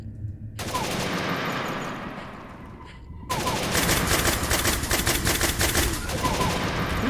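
Sustained automatic gunfire in a Doom-style shooter game, a short burst, a lull with lower droning noise, then a loud continuous stream of rapid shots.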